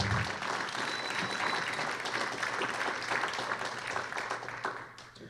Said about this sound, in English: let's give a round of applause for that opening statements